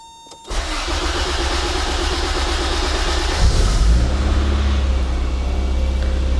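A 1987 Toyota Corolla FX16 with a twin-cam 1.6 liter engine cranks and fires up after sitting, catching quickly and settling into a loud, steady idle with a deep rumble that continues to the end.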